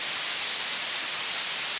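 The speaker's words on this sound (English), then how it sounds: "blue noise" Steady blue noise, a continuous hiss weighted toward the bright treble end, plays loud and alone for nearly two seconds before cutting off abruptly.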